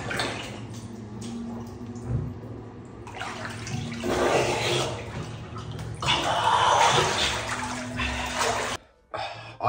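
Water sloshes and splashes loudly as someone climbs out of an ice bath beside a sauna, swelling in two surges before cutting off near the end, close and without talk.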